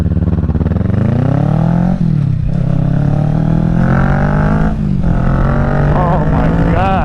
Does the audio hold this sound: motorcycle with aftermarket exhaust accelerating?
yes